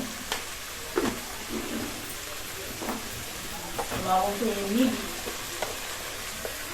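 A spatula stirs turmeric and salt into a sizzling soybean curry in a kadai, with rhythmic scrapes and knocks over a constant frying hiss, and a voice briefly speaking midway.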